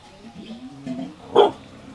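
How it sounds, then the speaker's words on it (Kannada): A dog at a guesthouse cooking area in Wayanad lets out a single short bark partway through, moderately loud, over a quiet background with faint murmuring. "ನಾನು ಕರೆದ್ರೆ ಬೊಗಳ್ತಾ ಇತ್ತು"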